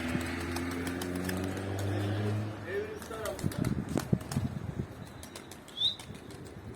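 A burst of pigeon wing flapping, loud and close, followed by clattering flutters and rustles, with a voice speaking briefly underneath.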